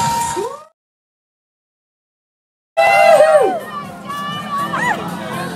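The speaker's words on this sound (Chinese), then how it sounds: "白队获胜， 为白队尖叫" A crowd of children at a school sports-day event shouts and screams in celebration of a winning team. A brief burst of voices is cut off by silence, then a loud, sustained wave of excited cheering rises and lingers.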